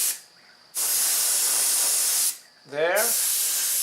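Airbrush spray hisses steadily in two long bursts split by short pauses, close and loud, while a voice speaks briefly between the bursts.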